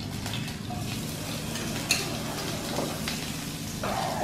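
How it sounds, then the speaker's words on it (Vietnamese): Steady sizzling of minced onion frying in hot oil, with occasional scrapes and clinks of a utensil stirring in the pan. "Mình để cho nó sôi lại, mình cho hành băm vô nè các bạn."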